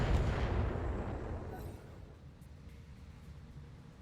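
A heavy gunfire blast in the video game MechWarrior Flashpoint, loud at first and then fading into a low rumbling decay.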